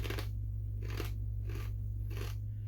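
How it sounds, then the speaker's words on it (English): Kettle-cooked Cape Cod white cheddar and sour cream potato chips crunch between teeth in close, rhythmic bites, about five crisp chewing bursts over a low steady hum. "That is a very crunchy chip."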